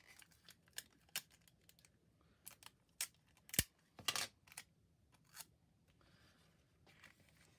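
Scissors trimming paper for a handmade stamped card, a quiet series of short crisp snips and rustles with a few louder cuts in the middle, close and alone.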